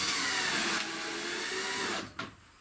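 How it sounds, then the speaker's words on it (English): Power driver whirring steadily as screws go in to mount a panel for a 12 volt load center to a wall, close and loud, then stopping with a short clunk. "So I'm just going to mount this thing with a couple screws."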